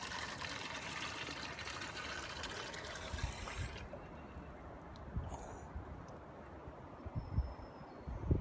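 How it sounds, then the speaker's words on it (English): Water trickles and splashes from a campground tap while a container fills, a faint steady flow with a hiss that drops away partway through, then softer dribbling and small knocks. "this little water thing right here. So we're gonna cheat, because why not? And we're gonna fill up water here."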